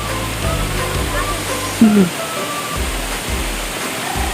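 A waterfall pours with a steady, loud, broadband rush, and a voice speaks briefly over the constant roar of falling water.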